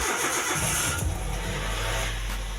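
A car engine starting with a brief starter crank that catches into a steady running idle, loud and close, with a low continuous hum after ignition.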